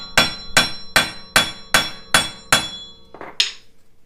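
Hammer strikes on a Jeep Wrangler axle shaft during wheel bearing work: seven loud, evenly spaced metallic blows ringing out, followed by a lighter clink, with no talk.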